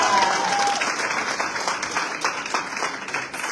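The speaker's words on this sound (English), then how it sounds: "One more huge round of applause for everyone." A large round of applause from guests at a tenth-anniversary gala opening reception; loud, continuous clapping from many hands that gradually thins and softens toward the end.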